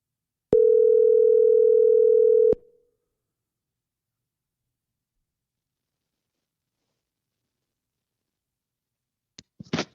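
A steady telephone dial tone holds for about two seconds while a call is placed, then cuts off to silence, followed near the end by a few brief soft clicks or rustles.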